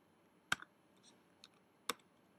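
Sparse keystrokes on a computer keyboard during an interactive fiction text adventure: two sharp, quiet clicks about a second and a half apart with softer taps between, alone in a near-silent room.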